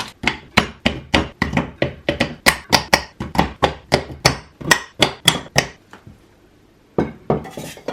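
Knife chopping chocolate on a cutting board for brownies, a rapid steady run of sharp close knocks that stops briefly, then resumes with a few more strikes.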